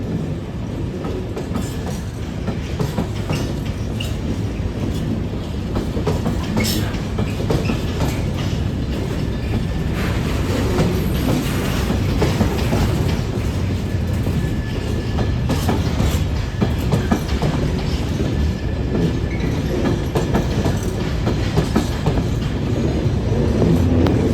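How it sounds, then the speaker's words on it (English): An empty ballast train passes at Newcastle on the East Coast Main Line, a long, steady, loud rumble of wagons with rhythmic clickety-clack wheel beats continuing throughout, with no voices. "Ballast trains, whatever."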